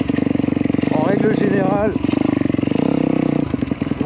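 The engine of a YCF 160 Daytona pit bike runs steadily at gentle break-in revs, a loud continuous buzzing drone with a brief rise in pitch, while someone talks over it throughout.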